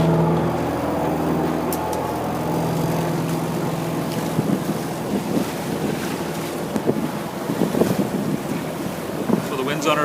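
Wind buffeting a diesel trawler on the water, a constant rushing roar against the microphone with engine rumble and intermittent gusts, heard alone.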